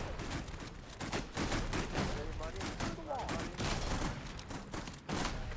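Rapid, dense gunfire from many rifles in the World War One game Holdfast, crackling continuously and fairly loud across the whole stretch, with a voice speaking over parts of it.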